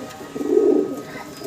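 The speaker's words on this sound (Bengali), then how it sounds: "মাত্র 2-3 ফেদার বয়সের এক জোড়া স্টেসার কবুতর দেখাচ্ছি" A pair of young Stesar pigeons, only two to three feathers old, give a soft, low cooing swell that rises and fades within a second or so, close by and alone with faint room noise.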